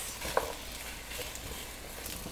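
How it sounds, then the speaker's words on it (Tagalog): Carrots and potatoes stir-fry in hot oil with a continuous soft sizzle, fairly faint and steady, plus one brief utensil clink near the start. "stir-fry na natin itong ating carrots and patatas"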